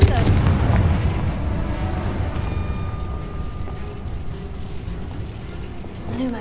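A Confringo fire spell cast in a video game, a heavy booming blast at the start that rolls into a long, low rumbling tail and fades out.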